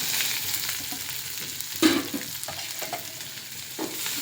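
Onions, green chillies and coriander fry in a pan, making a steady close sizzle broken by a few spoon knocks and stirring scrapes, with one louder clatter partway through.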